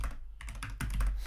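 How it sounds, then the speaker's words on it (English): Rapid computer keyboard typing during a programming session, dense clattering keystrokes in quick bursts, close and fairly loud with no talking. "My double typing is seriously messing me up."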